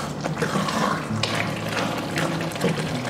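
Water pours into a pan of simmering tomato meat sauce for pasta, a steady splashing fill with faint metallic clinks, close and continuous with no talking.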